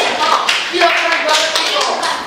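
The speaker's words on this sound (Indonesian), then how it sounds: "tepuk tangan dulu untuk kelompok 6" A classroom of students claps for a group during a math lesson, a short burst of close, uneven hand claps with some voices mixed in.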